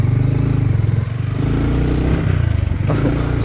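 Motorcycle riding over a rough mountain road, its engine droning loud and close throughout with rattling clatter and scraping from the bumpy surface.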